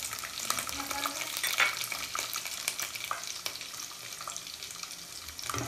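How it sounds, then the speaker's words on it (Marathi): Chopped tomato frying in a pan with sautéed onion and garlic for a dried Bombay duck and field bean dish, a continuous close sizzle with crackles and intermittent stirring clicks, no talk. "आता यात आपण एक कापलेला टोमॅटो टाकत आहोत।"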